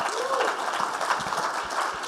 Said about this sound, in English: can we give these ladies a round of applause?